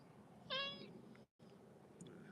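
A talkative house cat gives one clear, fairly loud meow near the start, followed by quieter faint sounds against a soft background.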